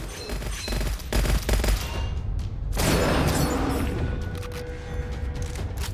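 Rapid gunfire in the video game Gunfire Reborn, dense bursts of shots crackling loudly for a few seconds, then a heavy blast followed by continued rumbling fire.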